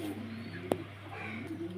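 Pigeons in a loft holding Madrasi Blue and Carrier Huma birds, a low cooing heard close by over a steady background hum, with one sharp brief knock in the middle.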